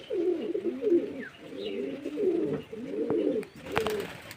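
Adult pigeons cooing at feeding time in a loft, a steady run of low, throaty rolling coos repeating in overlapping waves, fairly close, with a few faint higher chirps above and no talking.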